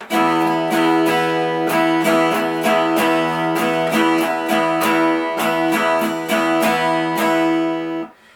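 A steel-string guitar strums a bright, bouncy Irish jig rhythm in a lilting triple feel, loud and close, ending with a short fade.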